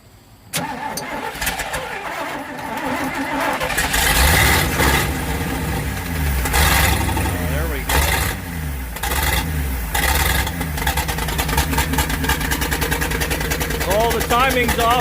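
A rebuilt International Loadstar 1600 truck engine with its timing off cranks, then catches and settles into a loud, rough, uneven idle with a few revs, while people talk nearby.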